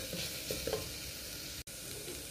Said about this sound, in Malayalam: ഇഞ്ചി വെളുത്തുള്ളിയുടെ പച്ചമണം മാറുന്നത് വരെ നല്ലപോലെ വഴറ്റി കൊടുക്കണം